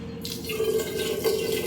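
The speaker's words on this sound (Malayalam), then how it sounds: "നല്ലോണം വെള്ളം ഒഴിച്ചൊന്ന് കഴുകിയെടുക്കാം." Water running from a tap into a pot for a rinse while making homemade ghee, a steady close splashing stream with a slight drip-like texture throughout.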